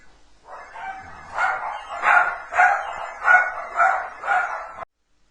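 Household dogs bark repeatedly after spotting a cat, about seven rhythmic, fairly loud barks at a steady pace from a short distance, then an abrupt cutoff.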